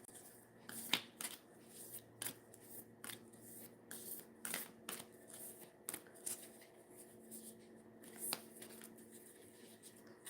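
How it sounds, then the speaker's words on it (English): Oracle cards from a deck are shuffled and drawn by hand, giving soft papery flicks and riffles in irregular bursts, quiet and close, with no talking. "I'll just pull 1 from the Wandering Heart deck"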